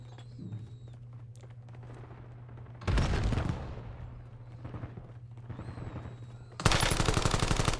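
Video game gunfire: bursts of loud automatic fire separated by quieter stretches with a steady low hum and faint ambient tones, the last burst abrupt and intense.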